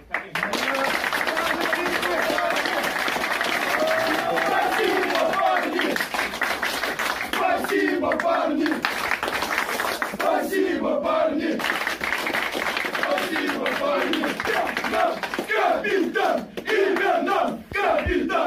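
Hockey fans gathered after their team's win over MHK Spartak cheer and chant loudly in a dense crowd, rhythmic shouted chants with bursts of clapping running throughout, voices overlapping continuously.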